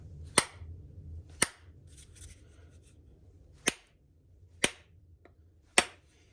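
An old hatchet being refurbished has its head driven onto the handle by striking the top of the handle: five sharp, loud wooden raps at uneven intervals with quiet gaps between.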